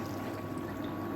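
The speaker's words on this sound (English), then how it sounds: "And then I'm going to put some water in that" Water from a can being poured into a simmering sausage vegetable masala stew, a soft, continuous, fairly quiet pour with no voices.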